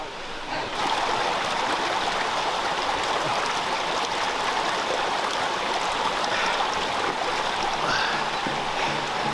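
A mountain river flows in a continuous loud rush and babble close by on a steep trail during a 10 km Spartan Race, starting abruptly and holding steady throughout.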